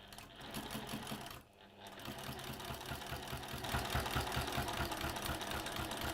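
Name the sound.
sewing machine with walking foot stitching layered fabric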